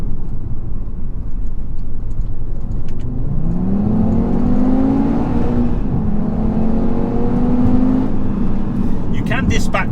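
A 400-horsepower Audi TT RS accelerates hard, its engine note climbing through the revs in a sustained rising pull, easing briefly before rising again, loud and close under a steady rumble of road noise.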